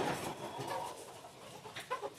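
Chickens cluck nearby in short, irregular bursts over a faint outdoor background.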